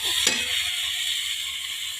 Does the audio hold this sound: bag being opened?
no